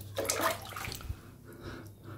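Water running from a tap in a hotel room near Attabad Lake in Hunza, a brief splashing gush close by that quickly thins to a weaker trickle, heard alone without talk.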